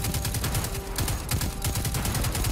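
A heavy-recoil weapon in Destiny 2 fires in rapid, steady bursts, each shot a loud punchy crack close up, with the volley running continuously throughout.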